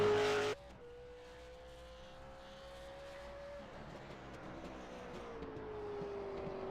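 A V8 Supercars Evolution Racing Falcon in qualifying at Bathurst, braking hard into Hell Corner: a steady engine drone that dips and rises in pitch, heard from onboard after a brief loud burst at the start.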